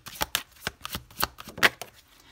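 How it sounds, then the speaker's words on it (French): Oracle cards being shuffled to draw an extra card, a run of quick papery riffles and flicks in an uneven rhythm, close and fairly quiet with no talking. "On va prendre une carte supplémentaire."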